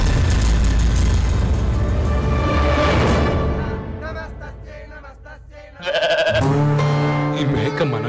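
A goat bleats loudly and repeatedly in a noisy film scene, the cries wavering and close, broken by a short quieter gap before resuming.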